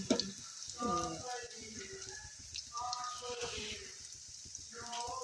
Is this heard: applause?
no